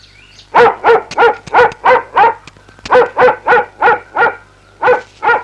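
A dog barks in a rapid, regular series of about fifteen loud, close barks with a short pause midway, no voices over it.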